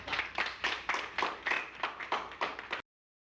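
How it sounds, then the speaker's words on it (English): A small group of people clapping together in a room, several rhythmic bursts of applause close by, fairly faint and stopping abruptly. "Give yourselves a round of applause."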